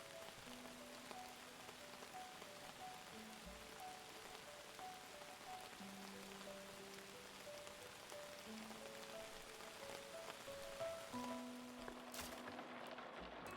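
Steady rain patters in the Outbound camper van video game, a soft, even wash of drops that continues throughout, quiet and unbroken, with faint tonal game sounds underneath.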